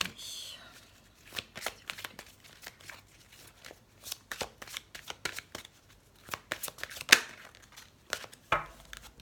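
Tarot cards being shuffled by hand, a quick run of crisp riffles and slaps close by, uneven in rhythm, with someone speaking French over the shuffling.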